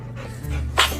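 A French Bulldog gives a single short, sharp sneeze at close range, a quick burst of air near the end, following soft breathing and panting.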